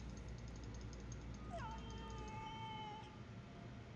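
A cat meows once inside a video game set in a messy crime-scene room, a short rising call over a steady low background hum, fairly clear and close.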